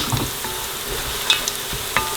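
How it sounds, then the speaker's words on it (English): Curry leaves hit oil with golden fried onions in a pan, giving a steady close sizzle and frying hiss with a few sharp pops and stirring scrapes, no talking. "so we're going to add the curry leaves now"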